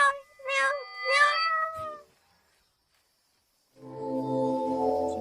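A cat gives three quick, bright meows close up, then a short pause and silence. A lower, steady, droning tone follows.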